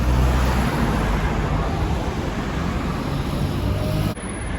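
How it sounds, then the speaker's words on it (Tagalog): Steady road traffic rumbles past a bus stop, a continuous broadband roar of cars and buses that holds loud and even before cutting off abruptly near the end. "Okay, nandito na ako sa bus stop."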